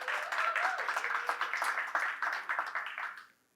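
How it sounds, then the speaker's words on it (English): An audience applauds the speakers, many hands clapping in a dense, steady round that holds for about three seconds before tapering off quickly at the end. "Round of applause for all our speakers."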